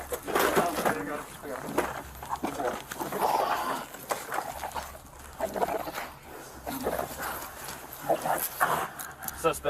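A police dog attacks a struggling suspect during an arrest, its growls and snarls ongoing and mixed with shouting and scuffling as officers yell commands throughout.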